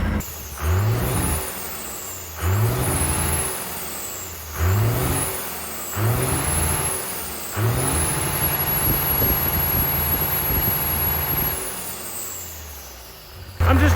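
A 12-valve 6BT Cummins diesel in a truck is revved hard and close: four sharp throttle blips that climb and fall back, then a long sustained high-rpm roar that slowly winds down.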